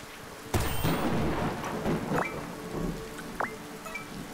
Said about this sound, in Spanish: Oh, está lloviendo, qué guapo.